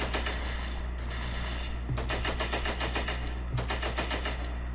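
Rapid automatic gunfire in the shooter game Cyber Hunter, several dense bursts of sharp cracks in quick succession, fairly close and steady across the stretch, with no voices.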